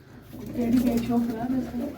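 A white pigeon coos in a low, steady burbling phrase close by, lasting about two seconds, with a voice talking over it.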